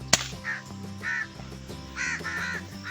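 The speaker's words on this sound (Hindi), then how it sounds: "किधर गया जी कौवा?" A crow caws several times in short harsh bursts at a mini zoo, moderately close, with faint background hum and no talking.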